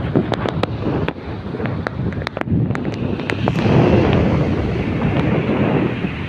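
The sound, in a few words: wind by the sea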